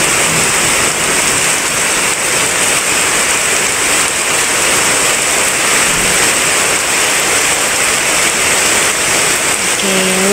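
Steady rain falling in Bicol, a dense, loud hiss of drops that continues evenly throughout, with a short tone at the very end.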